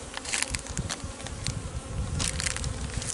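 Honey bees buzz close around a hive where a pollen patty has been laid flat over the cluster, with a dense, continuous hum and small scraping, crackling sounds mixed in.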